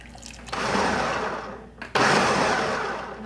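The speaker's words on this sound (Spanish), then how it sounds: "aquí en la licuadora vamos a vaciar todo lo que freímos" A kitchen blender whirs loudly as it purees fried salsa ingredients, running in two bursts with a brief pause between, steady and close.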